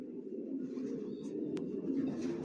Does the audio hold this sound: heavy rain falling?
no